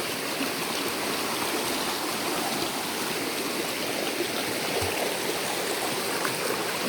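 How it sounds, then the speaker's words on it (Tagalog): Steady, full rush of flowing river water, loud and continuous throughout with no voices. "Grabe ang lakas ng tubig."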